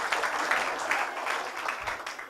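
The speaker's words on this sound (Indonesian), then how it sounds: "Tepuk tangan" Audience applause at a business opportunity seminar: a short burst of crowd clapping, moderately loud and even, with faint voices mixed in.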